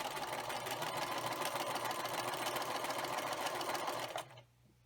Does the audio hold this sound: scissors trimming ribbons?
no